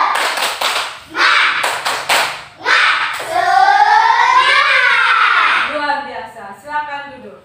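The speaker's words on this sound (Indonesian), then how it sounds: "Tepuk semangat" A class of schoolchildren performs the rhythmic 'tepuk semangat' clap pattern as a short burst of sharp, close claps. The claps are followed by loud, sustained voices shouting together in unison.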